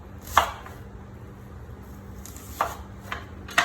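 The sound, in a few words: knife quartering an onion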